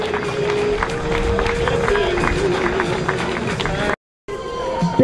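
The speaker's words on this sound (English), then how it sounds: "Please put your hands together for the male under 15s." Audience clapping and cheering at an outdoor mountain bike enduro prize giving in York, a steady, dense wash of applause and crowd noise close by, with a brief dropout near the end.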